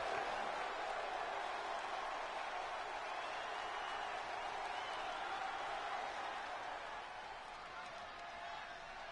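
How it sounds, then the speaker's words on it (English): A wrestling arena crowd roars for Ethan Thunderbolt, a sustained wash of cheering and applause at steady level throughout, heard from a distance without distinct individual voices. "Just listen to the crowd for Ethan Thunderbolt."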